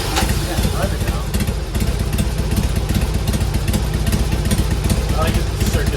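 A Harley Davidson Dyna motorcycle with a Bassani exhaust idles nearby, a loud, continuous, throbbing rumble that holds steady throughout.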